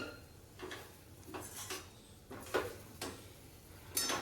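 Spoon scraping and clinking in a pan while a Gujarati bhel mixture is stirred, with a handful of separate metallic knocks spread out, fairly faint and close.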